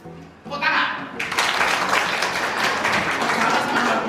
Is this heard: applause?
yes